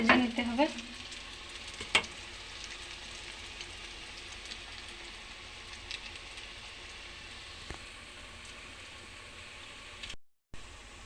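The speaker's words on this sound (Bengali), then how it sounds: "মুচমুচে করে ভেজে নিতে হবে।" Fulori fritters deep-fry in hot oil until crispy, a steady close bubbling sizzle like light rain with a few sharper pops and clinks, running on without talk before a brief cutout near the end.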